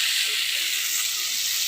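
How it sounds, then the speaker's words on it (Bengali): Okra (bhindi) frying in a pan on a clay stove gives a steady, close, even sizzle and hiss of oil that holds all the way through, with no voices. "আর এখন এই যে ভেন্ডি ভাজা করছি"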